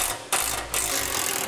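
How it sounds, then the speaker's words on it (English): A 10mm socket on a ratchet loosens bolts holding the spare tire heat shield under a 2008 Ford F-450, giving close, fast mechanical ratcheting clicks in two short bursts. "we'll need a 10mm socket in order to remove those two bolts"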